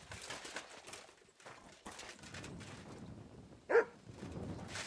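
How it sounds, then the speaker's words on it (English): Dog barking in the medieval role-playing game Kingdom Come: Deliverance II, heard as one short, sharp bark partway through, over game ambience. "Barking. He's coming from over there."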